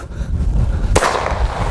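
One loud, close gunshot snaps out near a horse being trained, a sudden crack with a short ringing tail against low outdoor background noise.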